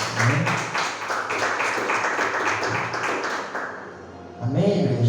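A church congregation claps together for Jesus, a rhythmic burst of hand claps under loud talking and singing that dips briefly before the voices rise again.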